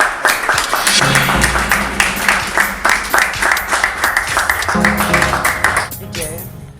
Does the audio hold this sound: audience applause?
yes